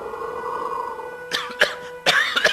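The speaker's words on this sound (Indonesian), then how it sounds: "Jika ia sudah batuk-batuk seperti itu" Several harsh coughs burst out in two clusters after a quiet stretch of background hum, close and loud, with no talk.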